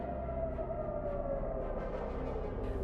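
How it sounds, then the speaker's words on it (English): Air raid sirens wailing across Tel Aviv during a missile and drone launch at Israel, a distant, steady wavering tone with a slow pitch slide over a low outdoor rumble. "Sirens were activated in several regions across Israel following the launch"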